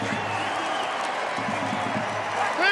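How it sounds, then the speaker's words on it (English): A dense stadium crowd roaring and applauding at an NRL rugby league finals match involving the Brisbane Broncos and the Raiders, a steady wash of noise with a commentator's voice running over it. "Oh, they're cheering the Raiders."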